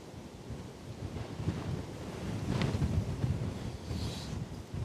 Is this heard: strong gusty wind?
yes